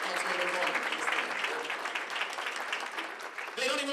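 An audience applauds council members at a St. Paul community climate meeting, a steady close burst of many hands clapping that runs the whole time and fades slightly near the end, with a voice speaking over it.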